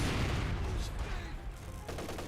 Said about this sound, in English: MG firing away, hitting the conscript squad there